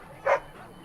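A single short dog bark from the fantasy role-playing game Dragon Age: Origins, mid-loud and close, over a low steady background hum.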